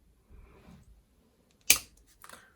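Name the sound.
clipper scissors snipping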